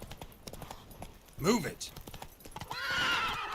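Horse hooves clip-clop in The Witcher 3 game, with a sharp whinny midway and a voice talking over the steady, moderately close hoofbeats.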